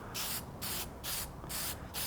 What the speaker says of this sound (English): rules of spray painting apply. Light even coats. Try and mist it on there.